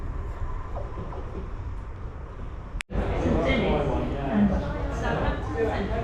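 A Class 377 electric train pulling out of a station on a Southampton Central service in Hampshire, a steady rumbling roar of wheels and motors that swells after a brief break, heard close from the platform.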